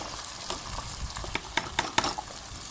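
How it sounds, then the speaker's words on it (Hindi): Onion, garlic and pumpkin fry in a pan with a steady crackling sizzle, broken by a few louder pops and stirring scrapes, quiet and close with no talking. "हमने प्याज को हल्का सा फ्राई कर लिया है"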